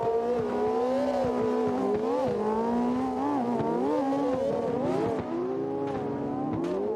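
A Mazda Miata race car revs hard during open practice, its engine note climbing and dropping repeatedly through gear changes, steady and fairly close with no talking.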